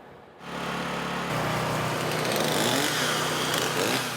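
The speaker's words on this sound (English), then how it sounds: "Chainsaws and generators gave a soundtrack to the relief effort the morning after." Chainsaws and generators at work during hurricane cleanup in Florida after Hurricane Milton: a steady, loud engine drone starts abruptly, then grows slightly louder and harsher as it runs on without a break.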